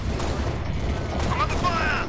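Gunfire in the video game Halo Reach, a short burst of mechanical weapon noise mixed with game effects under a steady background, with a voice talking over it.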